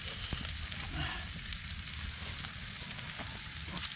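Bacon sizzling in a hot Lodge cast-iron skillet just taken off a Swedish torch fire, a close, continuous crackling hiss with scattered pops.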